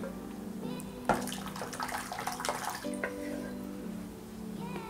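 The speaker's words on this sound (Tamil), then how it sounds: "இப்போ நம்ம கடைஞ்சி வச்சுருக்க பருப்பை இதில் சேர்த்துடலாம்." Cooked, mashed dal is poured into a pot of simmering okra sambar, making a soft, wet splash and slop for a couple of seconds over a steady low kitchen hum.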